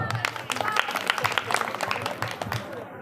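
Crowd of women clapping at a village prize game event, a dense steady patter of applause with a voice speaking over it.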